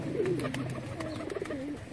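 Pigeons kept for sale cooing close by, soft repeated low throaty coos overlapping one another throughout.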